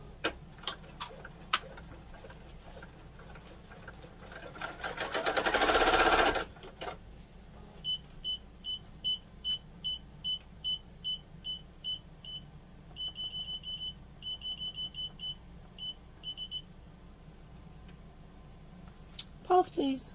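An embroidery machine stitches placement lines on a notebook cover front held in the hoop, giving a run of quick, regular ticking bursts after a brief loud rustle, with a short pause partway through.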